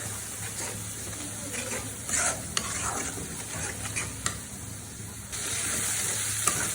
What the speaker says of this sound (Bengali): মশলাটা একটু সময় নিয়ে ভালো করে কষিয়ে দেবেন